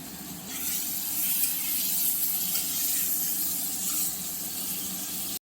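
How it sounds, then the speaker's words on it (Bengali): Potatoes and black cumin fry in oil with a steady, hissing sizzle that holds at an even level nearby, then cuts off abruptly at the end. "আলু জিরেটা সুন্দর ভাজা হয়ে গেছে"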